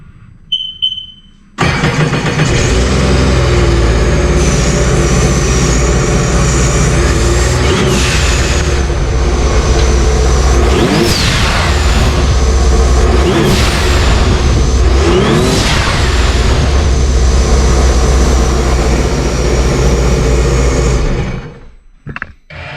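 Supercharged Sea-Doo RXP-X 300 jet ski engine fitted with a blow-off valve starts and runs loudly and steadily for about twenty seconds, with a few rising revs in the middle before cutting off.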